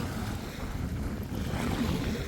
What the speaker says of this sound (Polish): Trochę są fale, bo przed chwilą tu płynęła motorówka.